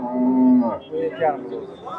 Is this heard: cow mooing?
yes